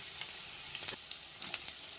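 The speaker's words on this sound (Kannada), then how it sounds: "ಈರುಳ್ಳಿ, ಹಸಿಮೆಣಸಿಕಾಯಿ ಹಾಕ್ತೀನಿ. ನೋಡ್ರಿ, ಶುಂಠಿ ಬೆಳ್ಳುಳ್ಳಿ ಪೇಸ್ಟ್ ಹಾಕ್ತಾ ಇದ್ದೀನಿ." Ginger garlic paste sizzling in a hot pan with onion and green chilli, a steady close crackle and spatter with occasional stirring scrapes, fairly quiet.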